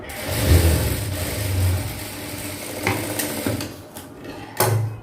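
A sewing machine runs a middle-length stitch along a blouse seam, whirring steadily with short surges and slight pauses, loud and close.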